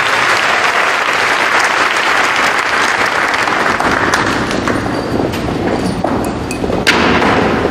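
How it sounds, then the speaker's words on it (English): Loud, sustained applause from a high school class night audience, many hands clapping densely with a few sharper claps and thumps standing out near the end. "One more round of applause for all of these people."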